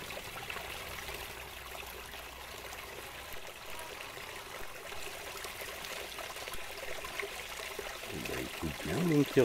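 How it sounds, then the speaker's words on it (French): Woodland stream on the hillside heights of Tillet, a steady soft trickle and rush of water running throughout at moderate level, growing slightly louder near the end as some low rustling or footsteps enter. "Ruisseau là."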